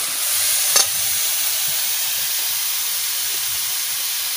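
Banana stem frying in a wok, a steady close sizzle and hiss of hot oil running throughout, with a brief sharper crackle near the start.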